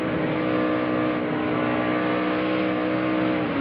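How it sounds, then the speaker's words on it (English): A race car engine revving as the driver blips the throttle, a steady, loud, close engine drone with harmonic tones, no talk. "Here him playing with the throttle."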